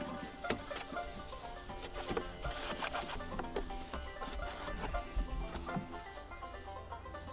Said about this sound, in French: Je mets toujours des petits coups de raclette moi à l'intérieur